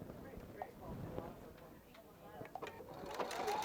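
A Viking Epic 2 sewing machine stitching, a soft, steady mechanical whir with faint rhythmic ticking close by, gradually rising toward the end while a person talks over it.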